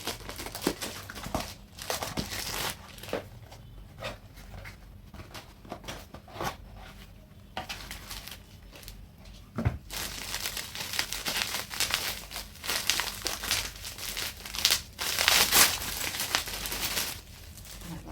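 Crinkling and rustling of plastic wrap as a Flipkart jewelry package holding white-stone jewelry is torn open by hand, with irregular crackles that grow busier and louder toward the end, no talking.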